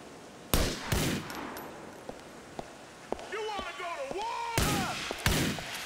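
A sniper rifle in Grand Theft Auto IV fires several loud, sharp cracks spaced apart, with smaller impacts and scattered game sounds between them and talk over the top.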